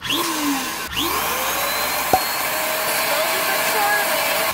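Air pump inflating party balloons: a continuous, close whining motor drone with a faint rising airy tone, steady and fairly loud throughout.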